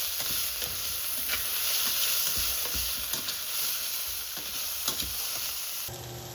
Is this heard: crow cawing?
no